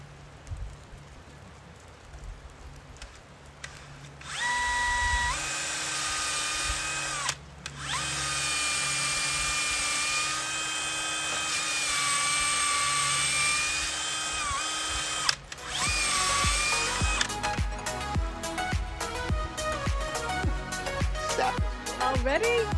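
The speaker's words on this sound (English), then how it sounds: "we're just going to use a wood drilling bit and send it" A power drill with a wood bit whines steadily at high pitch, stopping briefly twice, then grinds with rougher, stuttering bursts as it bores into a maple tree for tapping.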